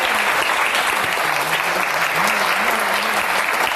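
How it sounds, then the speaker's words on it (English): An audience at a youth roundtable event applauds a panel with steady, dense clapping that holds at an even volume throughout, and a voice is faintly heard beneath it. "a huge round of applause for that wonderful panel"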